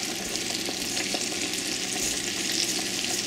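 Steady, close sizzling and crackling of chicken frying in hot oil, a dense continuous hiss with small pops throughout.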